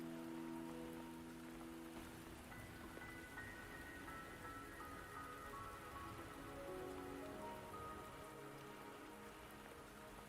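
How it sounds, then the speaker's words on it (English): Rain falls steadily in the video game Wuthering Waves, a continuous patter on surfaces under soft, sustained ambient music tones. "Don't worry, the rain won't last much longer."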